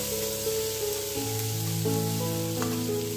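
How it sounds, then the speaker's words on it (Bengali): Water hits frying food in a pan and sets off a loud, steady sizzle close up that lasts throughout, with a faint tonal hum underneath. "এটা ভাজা হয়ে গেছে, এটা এখন আমি জল দিয়ে দেব।"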